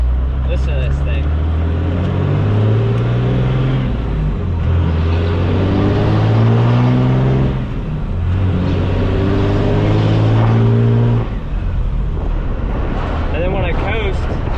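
Dually pickup truck rolling on brand new tires, coasting with the throttle off, giving a steady low road hum and drivetrain drone that stays loud and continuous, with someone talking over it throughout.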